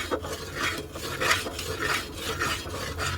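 A spoon scrapes and stirs through milk thickening in a pot for matka mawa kulfi, in steady rhythmic strokes about every half second, close and moderately loud with a low background rumble.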